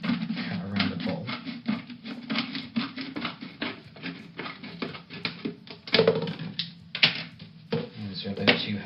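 Scissors cut around a plastic bottle with a long run of quick, crunchy snips and scrapes, close and moderately loud, pausing briefly and then picking up again.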